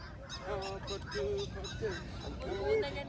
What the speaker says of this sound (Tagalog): Ingay nung mga duck dun oh.